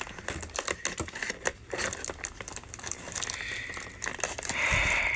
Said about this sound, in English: I hate damaging boxes, but it's the only way to get this figure out.